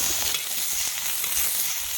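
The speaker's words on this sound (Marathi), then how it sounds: "कांदा तव्यावर टाकायचा कांद्यावर थोडस तेल टाकायचं" Onion fries in a little oil on a griddle with a soft, constant sizzle and faint crackles, steady and close, with no voices.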